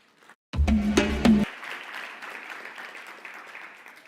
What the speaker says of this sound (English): let's give her a round of applause, Erica